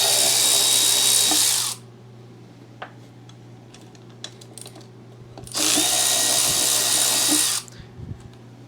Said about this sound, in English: Remove our pin bolts.